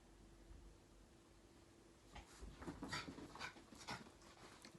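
Faint whimpers and soft panting from several dogs come in short bursts over a quiet hiss, with no voices.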